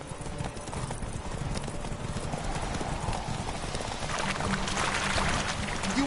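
Galloping hooves of a horse in The Witcher 3, a rapid, dense clip-clop that holds steady and grows slightly louder near the end.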